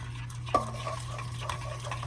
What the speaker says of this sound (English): so now you can take your spoon again, and you're just gonna stir it.